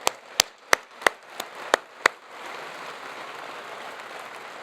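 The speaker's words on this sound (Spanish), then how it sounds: "Dale un aplauso." Seven sharp, separate claps at a youth congress, then a soft, even wash of applause from the audience.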